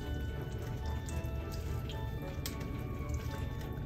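Thick mung bean stew (monggo guisado) stirred slowly in a pot, giving soft wet squelches and drips over a steady simmering background, with no voices.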